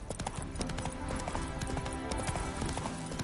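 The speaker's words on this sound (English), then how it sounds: "Spooking my horse." Horse hooves clip-clop in a steady trotting rhythm in The Witcher 3, close and continuous over faint game ambience.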